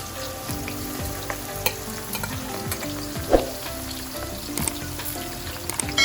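Onions fried golden brown sizzle in a pan as eggplant is added, a steady crackling hiss with occasional spatula scrapes and a louder clunk midway, close up and without talk.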